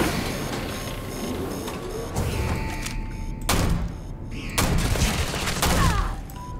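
Gunfire in the Starfield video game comes in several sharp bursts spread across a loud, busy game soundscape, with reports landing at irregular intervals over constant background noise.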